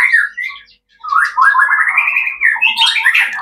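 A young white-rumped shama (murai batu) out sunning gives loud, close whistled calls, a short phrase, a brief pause, then a longer run of rising and falling chirps and trills.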